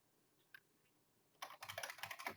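Rapid keystrokes on a computer keyboard while entering figure caption text, a couple of faint taps first, then a dense burst of close, fast typing with no talk.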